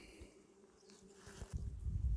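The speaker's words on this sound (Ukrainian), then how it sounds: "із усіх цих на синяку найкраще бджолки працюють" Honeybees buzzing while foraging for nectar on blooming blueweed flowers, a soft fluctuating drone near and then louder close by.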